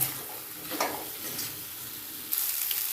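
Slit green chillies sizzling in oil with potato masala as the spices fry, a steady close hiss with soft stirring scrapes and a brief louder burst near the end.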